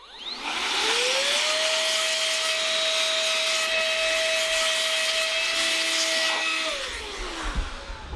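Compressed air blasting sawdust out of a wood router's housing and armature during cleaning: a loud, steady hiss that rises, holds for about six seconds with a whining tone, then tapers off, with no talk.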